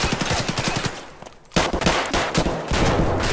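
Rapid automatic gunfire from scavs in Escape from Tarkov, loud bursts of close shooting that break off for a moment and then resume in a dense, sustained volley.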